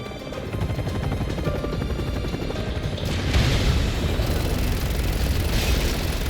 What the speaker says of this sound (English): vengeance on these helicopters